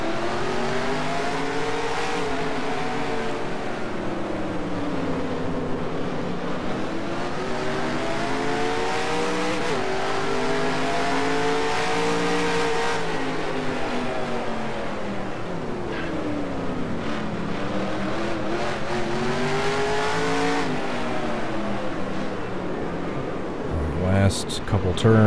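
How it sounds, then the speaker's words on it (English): A race car in a racing video game on the Mid-Ohio circuit, its engine note rising and falling in long, repeated sweeps as it accelerates and brakes through turns, loud and continuous, with some sharper noise near the end. "Basically just mashing the throttle and brake going into this turn."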